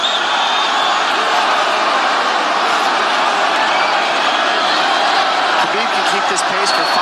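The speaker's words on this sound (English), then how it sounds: "Crowd goes bananas as McGregor gets upright" An arena crowd at UFC 229, Khabib vs McGregor, roars in a dense, continuous wall of noise while commentators talk over it.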